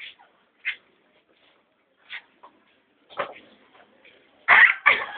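A small dog, one of several pet dogs, gives a few short, high yips and whimpers spaced apart, ending with two louder yelps close by.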